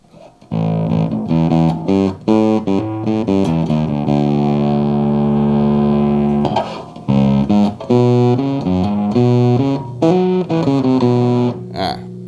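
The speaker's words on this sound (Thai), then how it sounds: "เดี๋ยวเราลองฟังเสียงแตกของตู้ดูอีกที" A bass riff played through heavy distortion, gritty and loud, with sustained notes and short pauses between phrases.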